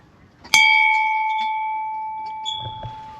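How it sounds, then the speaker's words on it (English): A single bell in a garden in Edinburgh is struck once, ringing out with a bright clear tone that decays slowly over several seconds, with faint background sounds. "and there's a bell here."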